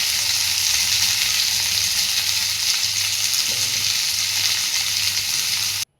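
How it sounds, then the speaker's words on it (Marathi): Surmai fish frying in a pan as oil is poured over it, a loud, steady sizzle that fills the whole stretch before cutting off abruptly near the end. "वरतून आपल्याला तेल सोडायचं आहे फिशवरती।"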